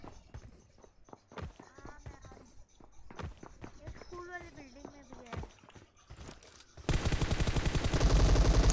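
Bursts of gunfire in PUBG Mobile, sharp scattered shots and running footsteps giving way to sustained loud automatic fire at the end, with people talking throughout.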